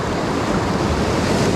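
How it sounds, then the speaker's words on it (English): Sea swell surges against the shore where bass are being fished, a loud steady wash of surf mixed with wind buffeting the microphone, brief and without talk. "Got a fair bit of swell coming in as well."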